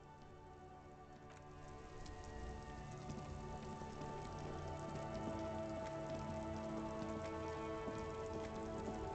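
Steady rain pattering on surfaces in Disco Elysium, a dense continuous hiss of drops that swells slightly and carries on with no voices.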